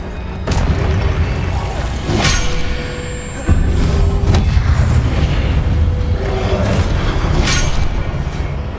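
Confringo fire spell blasts in the Hogwarts Legacy video game, several loud booming explosive impacts with crackling bursts, one after another amid combat effects.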